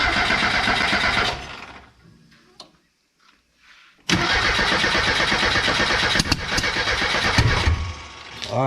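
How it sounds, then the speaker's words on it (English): Engine of an abandoned Ford Ranger pickup with badly off timing, cranking loudly, pausing, then catching and running rough and loud with uneven firing. "let's crank it, see what happens."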